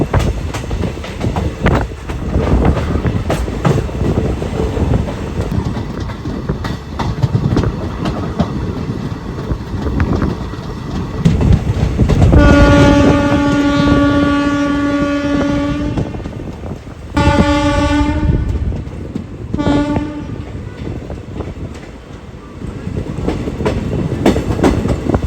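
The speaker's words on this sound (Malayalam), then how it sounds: "ലോക്കോ ഇങ്ങനെ ഹോൺ അടിച്ചടിച്ച പോകുന്നത്." A P5 locomotive hauling a small express train between Pathankot and Amritsar in Punjab runs along the track with a steady rumble, blowing a long horn blast followed by two shorter ones.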